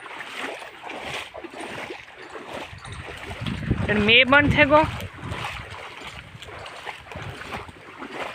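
Flood water from the Minsar river rushes across a farm in a steady, broadband wash. Someone talks over it, and wind buffets the microphone.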